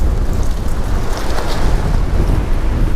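Strong wind rushes and buffets the microphone in a loud, constant roar with no voices, at an abandoned village.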